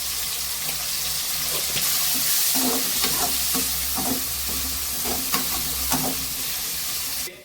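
Tomatoes with coarse rock salt and spice powder tipped into a hot frying pan for a soya chunk gravy, giving a steady close sizzle with repeated scraping stirs and soft clinks of a spoon against the pan, no voices.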